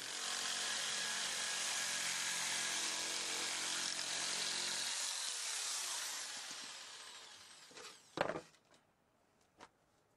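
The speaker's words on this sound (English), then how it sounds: "Cuts fiber cement siding up to 5/16 inches thick." A PacTool SnapperShear SS404 power shear on a 6.5 amp motor cuts fiber cement siding with a steady, loud, buzzing mechanical chatter for about five seconds. The cut then trails off and a few sharp clacks and knocks follow.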